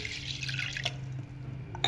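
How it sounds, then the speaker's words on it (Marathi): A glass of water is poured over washed urad dal in a pot, making a steady close trickle and dripping with a brighter splash near the end. "याच्यात एक ग्लास पाणी घालून घ्यायचं आहे"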